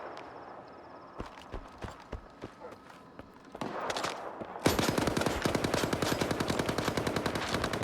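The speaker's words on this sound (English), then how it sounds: "They're shooting from up here too." Gunfire in the video game Stalker 2: scattered single shots and footsteps first, then a sharp loud burst of rapid automatic fire that rattles on without pause to the end.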